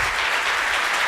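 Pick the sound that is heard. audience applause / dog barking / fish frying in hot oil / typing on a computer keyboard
audience applause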